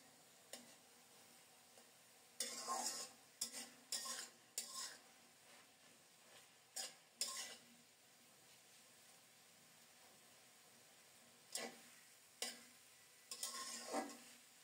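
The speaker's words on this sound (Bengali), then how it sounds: "এখন নেড়ে চেড়ে শুধু জলটা শুকিয়ে নেব।" Cooked greens stirred in a pan to dry off their water: bursts of spoon scraping and clinking against the metal come in irregular clusters over a faint low sizzle, with quiet gaps between.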